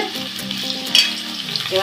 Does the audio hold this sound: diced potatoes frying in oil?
yes